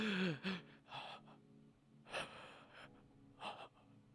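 A voice imitates labored breathing in a horror scene: harsh gasps and snorting breaths come in several bursts, loud and close, with pauses between them.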